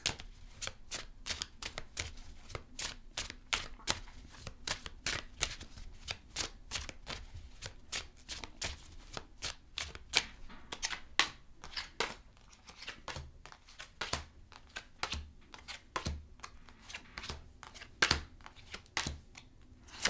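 Tarot cards are shuffled and pulled from the deck in quick, crisp riffles and flicks, a steady run of sharp close-up card snaps repeating throughout with no talking.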